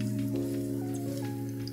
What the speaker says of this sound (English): I just want to get this garlic lightly golden here